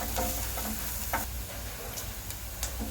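Finely chopped onion frying in hot oil in a pan, a steady close sizzle with occasional scraping stirs and light ticks throughout, no voices.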